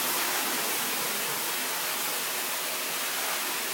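Steady, loud rushing of water flooding from a toilet, a continuous broadband hiss with no pauses and no voices.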